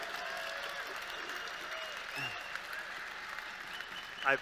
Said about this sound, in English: I've never heard so many people applaud an evasion of a simple question